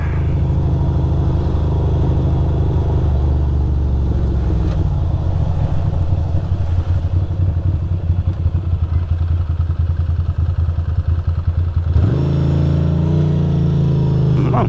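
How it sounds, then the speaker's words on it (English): Ducati Monster 620 motorcycle idling close to the microphone, a loud, steady low rumble with slight unevenness and some wind buffeting, and a brief rise in engine note near the end. "Oh, now it's fucking idling all right."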